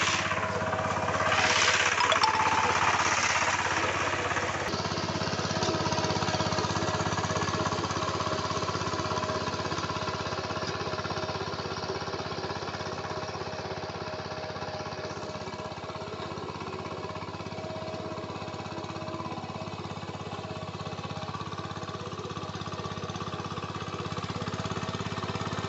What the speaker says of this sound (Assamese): এইফালে দাদাই ট্ৰেক্টৰ হাল বাই আছে চাওক এইফালে